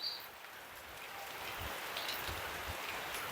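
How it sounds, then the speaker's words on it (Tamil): Heavy rain pours steadily in Valvettithurai, Jaffna, a dense continuous hiss of drops hitting surfaces, loud and unbroken throughout with faint low rumbles underneath. "கடும் மழை."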